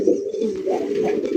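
A large Rajshahi Giribaj pigeon coos in low, rolling repeated calls close to the microphone, loud and steady, with no talking.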